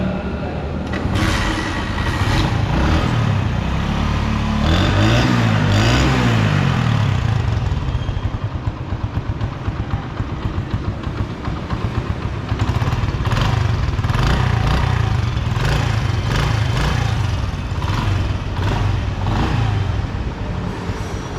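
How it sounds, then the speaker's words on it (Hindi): A 2025 Honda CD70 motorcycle engine runs steadily at idle and is revved up and down, loud and close, with its exhaust note pulsing evenly throughout and a brief rise in engine speed partway through. "साउंड आपने सुन लिया इस मोटरसाइकिल का"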